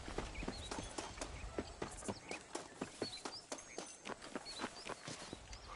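Horse hooves clip-clop at a steady walking pace in a Red Dead Redemption game scene, with distinct repeated hoof strikes close by and faint birdsong behind them.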